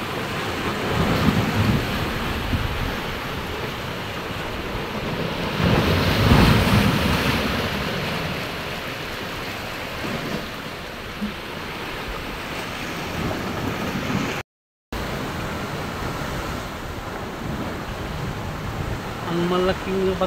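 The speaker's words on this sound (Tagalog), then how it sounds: "Nakita ang mga malaking mga alon dito" Large ocean waves crash and surge against big rocks at Parula, Davao Oriental, Philippines, in a steady roar, with strong wind buffeting the microphone throughout.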